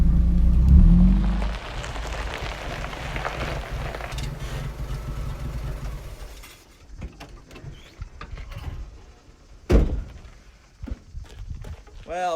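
A Jeep CJ7 with a standard transmission idles and rumbles as it turns around, its engine loud at first and then dropping away, with mechanical clunks and a sharp knock partway through, and someone speaking over it.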